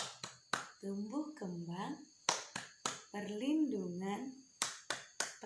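Group clapping in sharp, rhythmic bursts during a children's rights chant, loud and close, alternating with chanted speech between the clap sequences.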